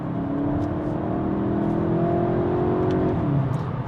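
A Volkswagen Golf GTI Mk8.5 engine revs steadily and loudly, a sustained close-up drone with rising and falling pitch through the whole stretch, with no talking over it.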